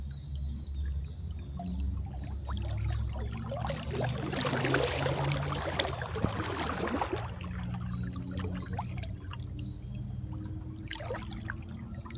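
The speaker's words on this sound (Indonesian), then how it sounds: "air sungai begitu deras ini" Fast-flowing river water rushes and splashes steadily nearby, swelling into a louder turbulent surge midway before settling back to a constant churning flow, with no one speaking.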